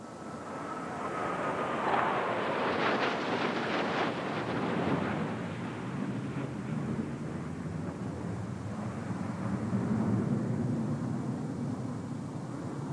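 A MiG-29 jet fighter roars overhead, its engine noise swelling into a broad rushing sweep, then fading into a steady distant rumble.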